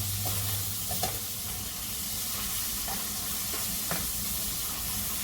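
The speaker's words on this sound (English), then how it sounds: "Let that sauteing for a few minutes." Ackee and saltfish sauté in coconut oil in a pan over an open fire, a steady close sizzle and hiss running throughout, with a few soft stirring scrapes and clicks and no talking.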